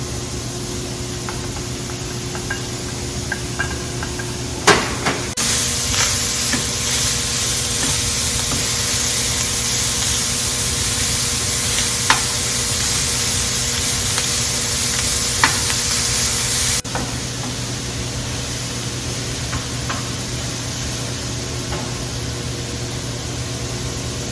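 Sausage and onions fry in a pan with a steady sizzle. It grows louder and hissier for a long middle stretch, then eases back, with a few sharp clicks and pops.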